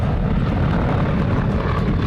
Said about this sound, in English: And there's another stall turn, rudder, making the aircraft pivot about a point within its left wing.